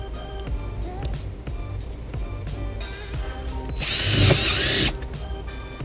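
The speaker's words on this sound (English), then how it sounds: "Now I got my drill and my self-tapping screw." A power drill drives a self-tapping screw while trailer wiring goes into a 2004 Toyota Sienna, with a loud rising whir and ratcheting for about a second after quieter clicks and handling noise.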